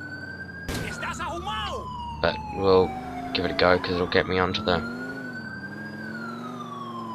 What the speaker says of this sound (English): Is this even my siren that's on?